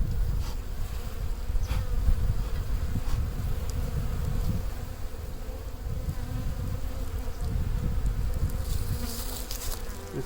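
A strong honeybee colony in an open beehive buzzes continuously, a dense, close, steady drone with individual bees flitting past now and then.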